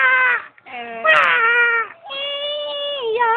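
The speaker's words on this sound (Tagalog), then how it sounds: "Para marinig niya yung iyak eh." A baby, an infant, cries in several loud, wailing bursts close up, with short gaps between the cries.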